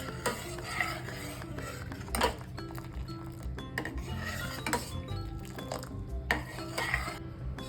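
A spoon stirs hot milk in a pot as it cools for homemade curd: repeated close scraping and clinking of metal against the pot in an uneven, steady rhythm, with no talking.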